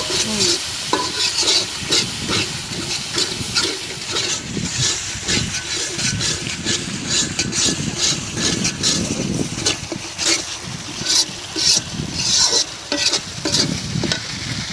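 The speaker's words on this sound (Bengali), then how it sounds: "মশলা একদম সুন্দর করে কষাই নিলাম।" Spice masala sautés in a hot pan before snakehead and spotted snakehead fish go in, with continuous sizzling and frying broken by frequent scraping strokes of a spoon stirring through the thick paste, close and steady.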